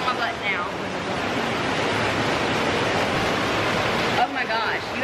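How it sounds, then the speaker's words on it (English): Hot tub bubble jets running in a cruise ship spa on the NCL Encore, a loud steady rushing hiss of churning water, with brief voices breaking through near the start and end. "I'm trying to activate the bubbles."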